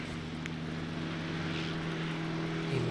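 An Air Chathams ATR 72-500 turboprop, formerly Air New Zealand, at Christchurch Airport, heard as a steady, loud propeller drone with a strong low hum and tonal whine, holding continuously without talk.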